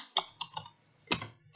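Keys clatter on a computer keyboard while code is typed into a QB64 calculator program, a few separate clusters of close, crisp clicks with short pauses between them.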